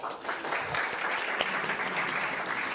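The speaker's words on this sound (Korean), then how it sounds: "제1주제 발표 및 토론에 참여해 주신 모든 분들께 다시 한번 큰 박수 부탁드립니다." An audience at a judicial policy symposium gives a sustained round of applause for presenters and discussants, a dense, even wash of clapping at moderate distance heard alone.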